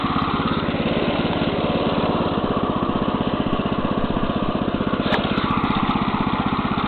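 Neva MB-2 walk-behind tiller engine runs steadily while tilling manure into soil, a loud, even, rapid putter continuing alone with no voices.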